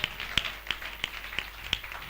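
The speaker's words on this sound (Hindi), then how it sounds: "ताली बजाकर परमेश्वर का धन्यवाद कीजिए" Church congregation clapping hands in thanks to God, heard as a short run of sharp, evenly spaced claps at a fairly quiet level with a faint background hum.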